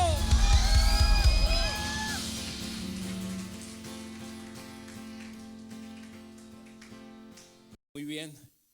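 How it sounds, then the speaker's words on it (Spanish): A church congregation shouts and whoops in joyful cheers, loud at first and then fading into a sustained murmur of voices with music continuing underneath, ending with a brief louder burst. "¿Cuánto puede dar un fuerte grito de júbilo?"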